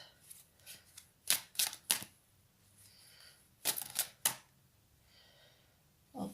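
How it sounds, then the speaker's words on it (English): Tarot cards shuffled quickly in a few bursts, crisp riffling snaps close by in two clusters with quiet pauses between. "Quick shuffles."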